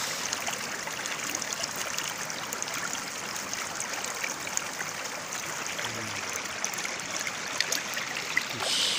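The Tama River in its middle reaches flows like a small stream, a steady, gentle babbling and trickling of water heard close by at dusk, without any voices.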